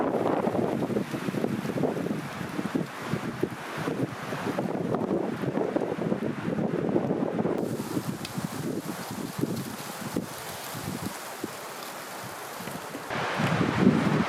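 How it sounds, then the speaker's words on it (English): Strong wind blows through a forest at an off-grid log cabin build site, a loud, continuous roar and rustle with gusty swells and buffeting against the microphone throughout. "As I expected, the wind today is way too strong to be able to cut down the trees."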